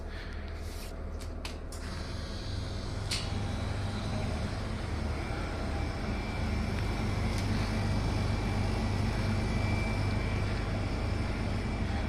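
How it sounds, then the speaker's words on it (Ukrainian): Compressor unit of a refrigerated display counter starting up and running, a steady low hum and broadband whir that swells slightly after start, with a few faint clicks early on. "І запуск компресора агрегата."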